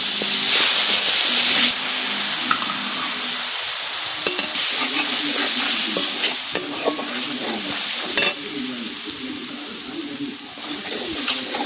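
A ground paste of chili, garlic, onion and ginger fries in hot oil in a pan, a steady loud sizzle broken by repeated scraping stirs, with birds cooing faintly in the background.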